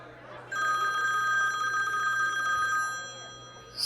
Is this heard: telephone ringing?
yes